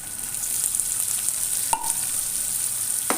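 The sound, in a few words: onion frying in pan for garlic spinach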